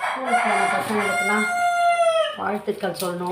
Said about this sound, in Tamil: இப்போ அதுக்கு பதில் கோழி கூவுற சத்தம் தான் கேட்குது.